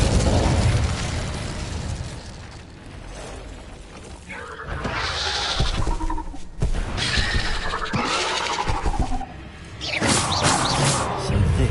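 Incendio fire spell bursts in Hogwarts Legacy, cast inside a tarantula cave: loud fiery blasts and crackling impacts rise and fall in several waves over a dense game soundscape.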